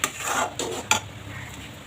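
Besan being stirred by hand into boiling water in a metal pot while cooking patwadi, with a few scraping, clinking strokes against the pot over a soft bubbling background, nearby and moderately loud.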